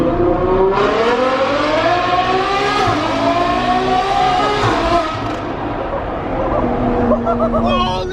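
Ferrari F12 supercar roars through a tunnel in race mode, the engine rising and falling through hard, echoing revs and gear changes, loud and close from inside the cabin.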